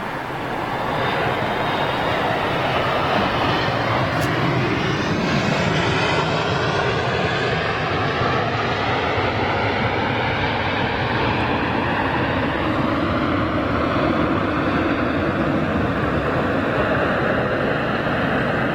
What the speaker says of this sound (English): KLM Sky Team 737 next in.